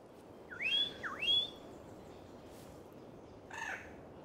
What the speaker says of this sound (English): This species of bird is known as the Seychelles magpie robin.